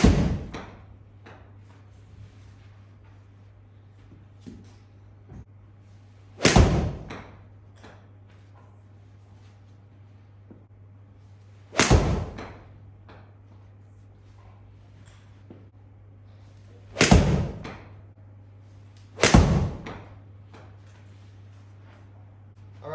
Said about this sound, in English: So I'm just going to hit 5 shots with each club